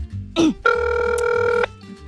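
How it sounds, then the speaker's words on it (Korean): A telephone rings as a call is placed: a short dialing blip, then one steady electronic ring lasting about a second, loud and close. "내가 이거 전화로 말해줘야겠어"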